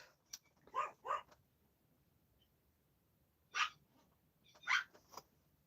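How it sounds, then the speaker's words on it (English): Dogs bark in the background of a quiet indoor room, with a pair of short yips, then a pause, then a few more scattered barks, all faint and distant. "I do have dogs in the background."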